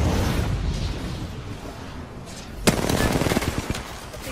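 Gunfire in the battle-royale shooter Apex Legends, Season 7: a sharp close shot followed by a rapid burst of repeated automatic fire, loud over a steady rumbling game ambience, with no talking.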